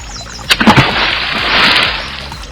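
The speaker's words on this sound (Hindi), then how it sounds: "हाथी जैसे ही तालाब में पहुंचे, मेंढक, केकड़े और कछुए तालाब में कूद पड़े।" Frogs, crabs and turtles leap into a pond in a short cluster of splashes and plops, then a steady watery wash and sloshing continues, fairly close with no voices.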